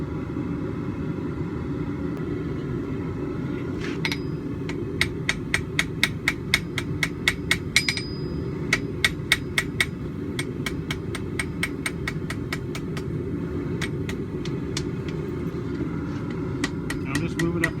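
A ball peen hammer striking a forge weld on a steel back scratcher at the anvil, a series of sharp metallic blows in bursts over a low roar of the forge fire.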